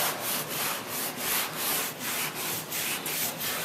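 Scrubbing the bottom of a 1956 19-foot Chris-Craft Capri wooden boat, with rhythmic back-and-forth rubbing strokes about every half second, close and steady, with no voices.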